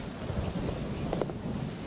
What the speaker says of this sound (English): Pretty good storm. Winds are picking up.